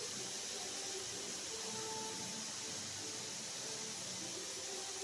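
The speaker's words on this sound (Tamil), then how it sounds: "ஸோ அது கொஞ்சம் நேரம் ஃப்ரை ஆகட்டும்" Seppankizhangu kara kulambu masala sizzles in a pan as a steady, faint, even hiss of frying, with no talking.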